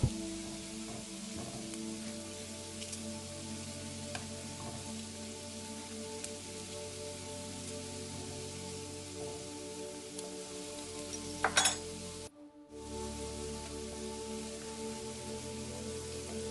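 Onions fry in a pan for frizzled onions, a steady, even hiss like light rain that continues throughout, briefly cutting out near the end before resuming.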